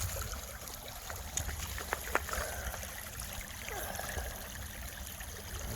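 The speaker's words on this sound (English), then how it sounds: "Nice bit of fast flowing, clean water." Clean, fast-flowing water in the Little Ouse river runs as a steady, broad rushing and trickling close by, with a few small splashes and no talk.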